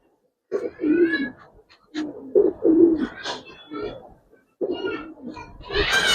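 Giribaz and coloring pigeons cooing close by, several soft throaty coos in separate bursts with brief quiet gaps between them.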